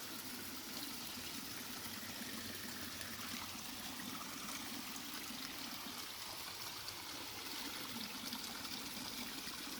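A rain-fed stream trickles and rushes steadily at a campsite after a thunderstorm, a constant faint wash of flowing water with no breaks and no voices.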